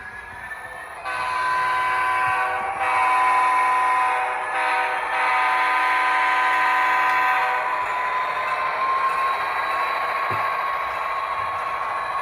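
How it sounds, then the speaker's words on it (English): A vintage Tyco model train running on a home layout fitted with dead-rail sound, a steady loud rolling rumble with sustained horn-like whistle tones sounding throughout, close and continuous. "Two weeks, we got trains running on it already."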